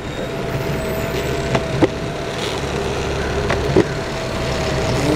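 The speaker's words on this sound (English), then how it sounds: "Alright, so this truck is here." A truck engine idles on the Venice Beach boardwalk, a steady low rumble under outdoor crowd ambience, with a couple of short sharp knocks or clacks standing out partway through.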